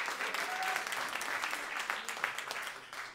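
Sustained applause from the audience at an album launch evening honouring the Centre des arts et de la culture de Dieppe, a steady, even patter of many hands clapping at moderate distance with no voices.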